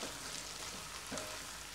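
Chicken pieces for a Chettinad chicken fry sizzle steadily in a pan, with a soft scrape of stirring partway through; the frying hiss is close and continuous, with no voices.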